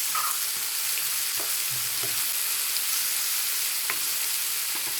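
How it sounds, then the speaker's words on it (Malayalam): Ground masala spices (turmeric, coriander, cumin, garam masala and chili powder) sizzle and fry steadily in a hot pan for a chemmeen pathiri filling, with a few faint stirring scrapes and no talk. "ഇത്രയും മസാലാസ് നമുക്ക് ആഡ് ചെയ്ത് ഒന്ന് വഴറ്റിയെടുക്കാം."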